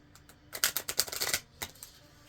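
A rapid burst of crisp, flapping clicks as a deck of tarot cards is riffled, followed by a few softer shuffles, close by and otherwise quiet.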